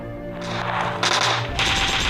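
Rapid gunfire in PUBG Mobile while an enemy is killed, dense automatic bursts that change character partway through, loud and close, with no talk.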